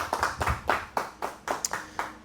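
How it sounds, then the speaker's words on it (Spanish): A church congregation claps together in praise at a Spanish-language service, a loose run of about ten close, sharp claps with an uneven rhythm, fairly loud and with no one talking over it. "Le damos un aplauso a Dios por su misericordia."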